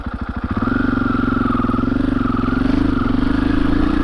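A 2021 KTM 500 EXC-F dirt bike rumbles steadily downhill over rocky, steep terrain, its engine close and loud with a brief choppy start, then a sustained throbbing drone with slight rises in revs.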